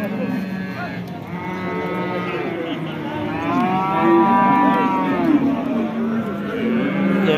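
Cows mooing at a busy livestock market, long drawn-out lowing calls that grow louder midway, heard close over a constant crowd murmur.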